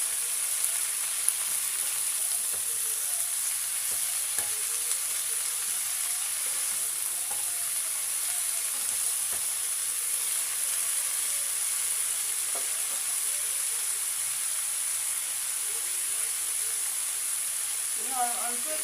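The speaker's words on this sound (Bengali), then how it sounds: "সবজিগুলোকে আমি ভালো করে ভেজে নেব।" Mixed winter vegetables frying in a pan with a little salt and turmeric, a steady soft sizzle and hiss running throughout, with occasional faint stirring clicks close by.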